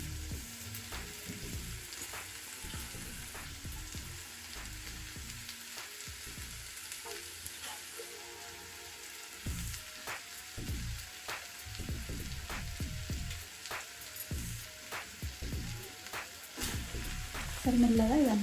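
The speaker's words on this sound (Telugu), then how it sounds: "సరే మెల్లగా ఇదంతా కలిపేసుకోవాలి. అన్నంకంతా కూడా పట్టే విధంగా కలిపేసుకోవాలి." Rice being stirred into a gongura mixture in a frying pan, with a steady background sizzle and repeated close scraping and stirring strokes that come in uneven bursts, and no voices.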